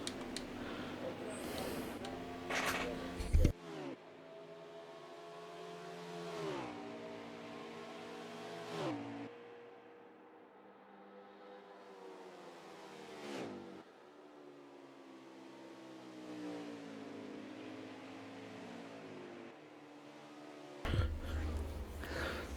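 Race cars lapping Watkins Glen produce rising and falling engine tones, quiet and distant-sounding, with sharper bursts at the start and end.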